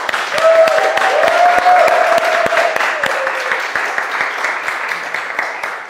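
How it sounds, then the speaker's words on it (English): A dinner audience applauds a team after a meal at a Port wine event, steady loud clapping from a crowd that swells and holds for several seconds before slowly tapering. "give a good round of applause to the team that has made this madness happen"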